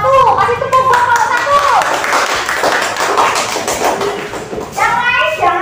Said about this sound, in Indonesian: Kasih tepuk buat kelompok